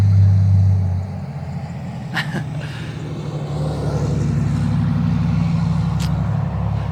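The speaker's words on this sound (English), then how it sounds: "that's a very loud work truck" A loud, heavy work truck hauling a tractor rumbles close by, its deep engine drone dipping briefly and then swelling again, with a short hiss like an air brake.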